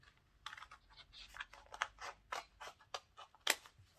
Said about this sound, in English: So I cut it open.